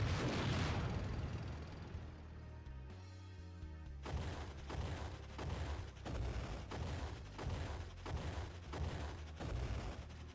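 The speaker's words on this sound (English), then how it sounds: "why do we just walk into the crossfire" Battle crossfire in Final Fantasy 4, opening with a heavy explosive blast that fades, then a loud run of rhythmic gunfire bursts and booms at regular intervals, with no voices.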